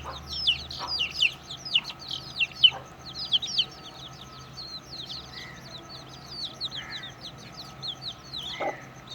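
An Aseel hen clucks softly with her chicks, whose rapid high peeps fill the first half while a few low clucks recur throughout, fairly close in a quiet setting.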